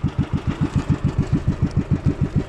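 A boat engine chugs close by in a fast, regular rhythm of low thumps, running steadily with no other sounds.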